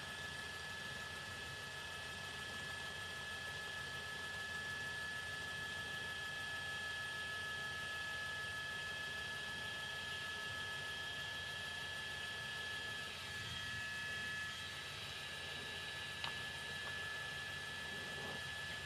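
A police helicopter hovers overhead at night while tracking a speeding vehicle on a freeway. Its rotor and turbine drone holds steady and fairly distant for the whole stretch, with no voices.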